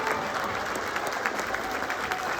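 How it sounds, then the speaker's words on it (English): A school spring band concert audience claps steadily and loudly throughout, a full crowd's applause for the concert, cadet and jazz bands. "Another huge round of applause for the concert band, the cadet band, and the jazz band for an amazing performance tonight."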